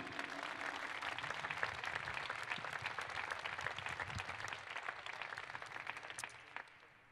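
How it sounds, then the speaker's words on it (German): Sustained crowd applause at a Hannover 96 player farewell event for departing footballer Sebi Jung, dense and steady throughout, fading out toward the end. "Ein Applaus für Sebi Jung."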